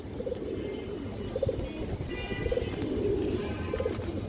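Pigeons in a farm loft coo in repeated soft low phrases, several short bursts spaced through the clip over a steady background hum, with faint chirps above.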